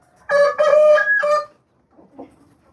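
A rooster gives one loud, close crow-like call, then a couple of faint clucks after a short pause.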